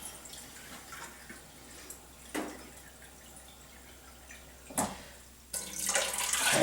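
Water pours into a cooking pot for quinoa in short bursts, faint trickling between splashes, ending in a louder, fuller stream.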